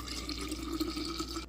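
A steady stream of apple cinnamon ginger liquid pours into a jug, a close, continuous splashing trickle that stops abruptly after about a second and a half.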